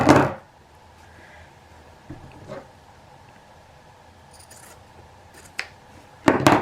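Scissors cutting off excess fabric around a sewn bucket bag: a few brief snips and crisp cuts spaced apart against a quiet room, with louder handling noises at the start and end.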